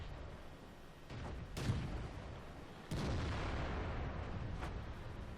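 Artillery shells landing in World of Tanks, two or three distant heavy thuds and blasts over a low rumbling battlefield bed, fairly faint and without speech.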